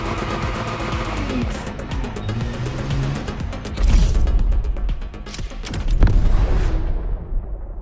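A drift car, apparently a DeLorean built as a drift machine, slides around a track drifting event in The Crew Motorfest on an island course. Busy engine and mechanical noise runs throughout, with louder surges of tyre and engine noise near the middle and end.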